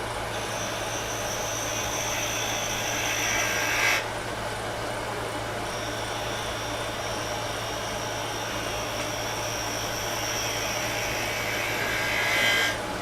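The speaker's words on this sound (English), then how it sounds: "So now we get down to the place where we can use the bowl gouge for part of this" A wooden finial ornament is turned on a lathe with a bowl gouge, a steady motor hum under a high, continuous scraping cut that pauses briefly and then resumes.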